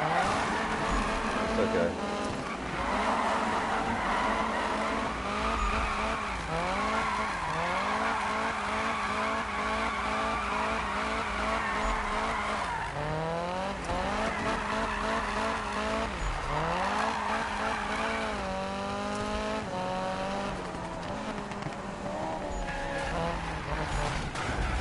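Ferrari tires squealing and skidding in a racing video game, with sweeping engine revs rising and falling continuously over a steady roar, loud throughout, while a voice speaks briefly.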